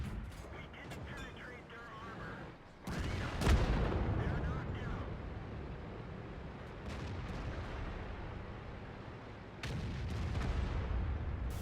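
World of Tanks cannon fire booms once, heavy and close, followed by a lingering rumble, with further blasts and a low battle din under steady talking.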